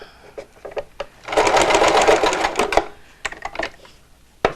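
A sewing machine stitches fabric for a face mask, running in one steady whirring burst of about a second and a half, framed by scattered clicks and handling noise close by.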